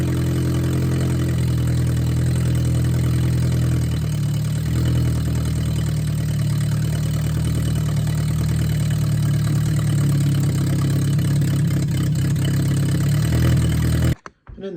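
A Datsun 620 engine runs steadily with no exhaust fitted, giving a loud, continuous raw idle with a deep low rumble throughout, then cuts off abruptly at the very end.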